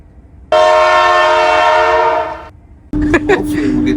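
A train horn gives one loud, sustained blast of about two seconds on a train bound for London King's Cross, followed by rail clatter and rumble.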